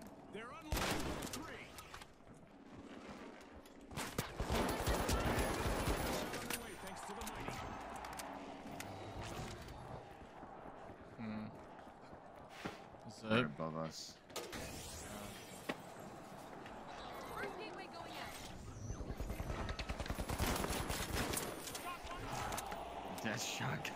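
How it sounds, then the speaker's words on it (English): Light shotgun fire in The Finals game cracks out in loud clustered blasts amid chaotic combat noise, with breaks between bursts and players talking over the action. "That shotgun is fucking ridiculous, bro."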